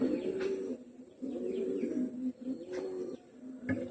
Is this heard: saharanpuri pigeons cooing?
yes